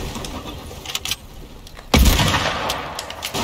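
A single sharp, loud hunting rifle shot in Fortnite cracks out after a quiet stretch of game ambience, followed by a lingering, decaying tail.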